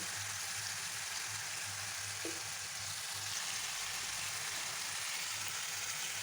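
Watermelon rind crackles and sizzles steadily in a hot pan with a little soy sauce, with occasional stirring scrapes and a low background hum.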